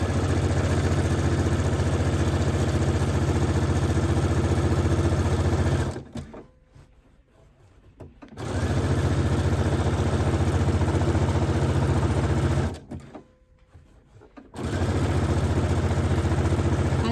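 A sewing machine stitches elastic close to the edge of fabric in two long, steady whirring runs, separated by short pauses.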